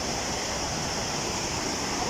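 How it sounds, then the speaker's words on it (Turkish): A waterfall at Kapuzbaşı rushes in a steady, dense roar with no break, loud and close, with nothing else audible over it. "Diğer şelaleler de orada arkadaşlar."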